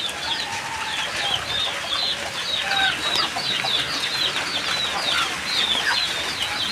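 Several free-range native chickens clucking and chirping continuously nearby in a rooftop coop, a busy overlapping chatter with no talking.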